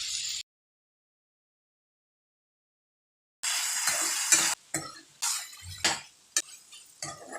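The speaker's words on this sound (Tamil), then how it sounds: "தக்காளி பழத்தை சேர்த்து நல்லா வதக்கி விட்டுடலாம்." Tomatoes are stirred and sautéed in a pan for chutney, heard as brief bursts of sizzle and scraping that start and stop between stretches of silence, close and fairly quiet.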